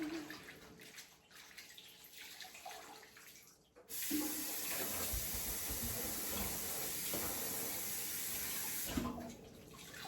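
Tap water runs steadily into a sink while a pork butt is washed, a loud even rush starting partway in after quieter handling noises, then cutting off near the end.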